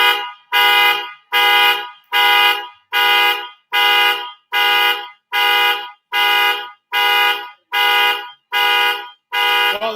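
An alarm goes off in a radio studio, blaring a loud harsh buzzing tone in a regular pulsing pattern, about a dozen long blasts with short gaps, alone and close.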